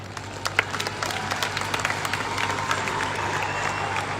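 A stadium crowd at a rural Olympic sports event in Jaipur breaks into sustained applause, dense overlapping claps forming a steady wash with a few sharper individual claps standing out.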